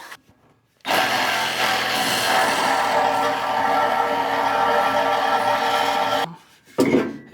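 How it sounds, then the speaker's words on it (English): A power tool cuts through a weld on long-tube exhaust headers of a square body truck, a loud continuous grinding-cutting rasp lasting several seconds before stopping abruptly, followed by brief clanking. "We'll cut that weld."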